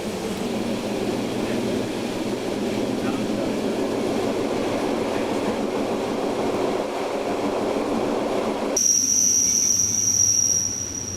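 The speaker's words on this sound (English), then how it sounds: "We're on the train." A train to the Jungfrau near Grindelwald rolls steadily along the tracks with a continuous low rumble, and a thin, high metallic whine rises near the end.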